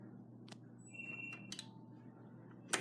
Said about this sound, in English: it just made a stop at 3 because it just beeped